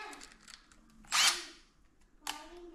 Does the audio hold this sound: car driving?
no